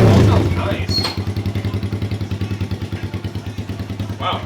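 Big bore Honda XR100 motorcycle engine idling in a garage right after a first-kick start, a steady loud rhythmic putter of even pulses close by, with a brief voice near the start and end.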